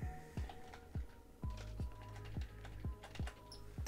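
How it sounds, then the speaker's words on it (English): Quick, irregular keystrokes on a computer keyboard while entering code for a Ren'Py visual novel, each click close and crisp in a quiet room, with short pauses between bursts. "I'm having trouble typing today"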